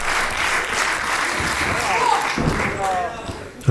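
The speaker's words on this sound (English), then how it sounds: "The crowd is fired up for both these ladies." Wrestling event crowd applauding and cheering for two women wrestlers, a steady wash of clapping and crowd noise under a commentator's voice.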